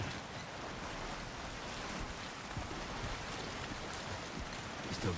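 Rainfall in the video game Death Stranding 2 pours steadily as a broad, constant wash of droplets, close and moderately loud, with scattered louder splashes and no speech over it.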